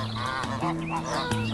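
A little cartoon goose on an animated farm gives a run of bright, nasal honks. The calls are close and loud, rising and falling in quick succession with no pauses.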